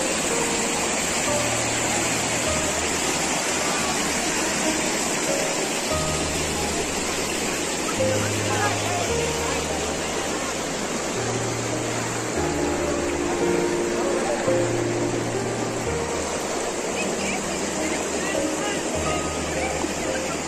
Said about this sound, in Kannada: ನೋಡಿ ನೀರು ಎಷ್ಟು ಚೆನ್ನಾಗಿ ಹರಿತಾ ಇದೆ,